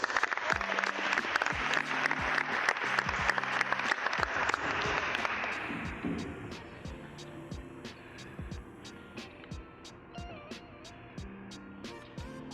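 Audience applause at a Piqua High School event honoring a student athlete, a state-record deadlifter; dense clapping fills the first six seconds, then thins into scattered claps over a quieter room with faint background sound.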